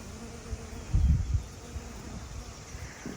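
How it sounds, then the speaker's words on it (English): Low buzzing of bees around an American holly bush, with a slightly louder pass near the start and faint rustling under a steady outdoor hush. "This is the first day that I've heard bees on my American holly."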